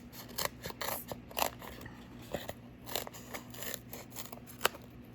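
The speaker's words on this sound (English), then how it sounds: "let's just go ahead and use our scissors to be safe" Scissors snipping through a paper strip during a card-making craft session: a quick run of close, crisp cuts, some in short bursts, over a steady low hum in the room.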